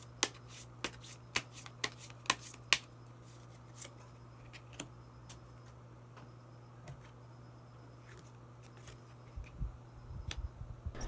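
A deck of tarot cards is shuffled to draw a hidden card. Crisp, close riffling snaps come in quick bursts early on, then thin out to a few scattered clicks over a faint steady hum.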